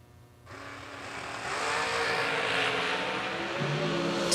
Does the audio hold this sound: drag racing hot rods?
yes